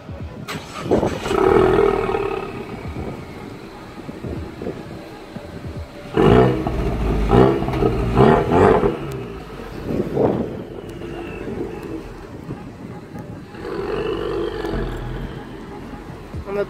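A Ford Mustang engine roars loudly in bursts on the street, with revving swells rising and fading, while onlookers talk over it.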